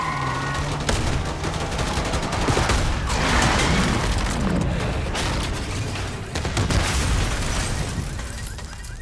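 Dense, continuous gunfire and explosions in a Call of Duty Black Ops 6 campaign street battle, with overlapping bursts and booms filling the whole stretch at a loud, close level.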